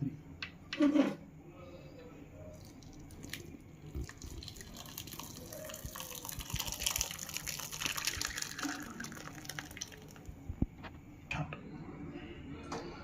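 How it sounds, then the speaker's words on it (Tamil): Water drains and drips from homemade paneer curds strained through a white cloth, a soft continuous trickle with scattered drips. Quiet handling noises and a brief louder splash near the start come with it, and talking is heard nearby. "இப்போ இதை நல்லா ஃபில்ட்ரு பண்ணிட்டோம், தண்ணி எடுத்துட்டோம்."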